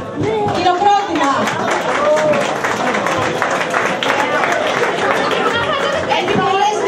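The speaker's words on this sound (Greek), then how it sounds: "Χειροκρότημα!" Applause from an audience at a Greek sports club event, a steady crowd clapping that runs the whole stretch, mixed with loud chatter and voices.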